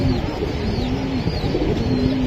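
Giribaz pigeons at a pigeon farm cooing in repeated soft low calls, a steady murmur of doves close by with faint higher chirps over a constant background hum.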